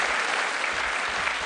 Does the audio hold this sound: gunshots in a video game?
no